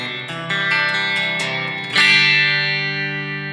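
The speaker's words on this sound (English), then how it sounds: "And let's see what we got on the reverb here." Electric guitar chords played through the built-in reverb effect of an Enya NOVA GO SONIC guitar, loud and sustained, with a fresh strum midway and a long reverberant tail ringing out alone.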